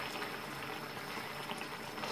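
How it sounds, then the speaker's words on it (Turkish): Cooking oil pours into a large pot, a faint continuous sizzling, bubbling liquid wash with no pauses, heard alone at low level. "şimdi bunun içinde yağ ekliyoruz"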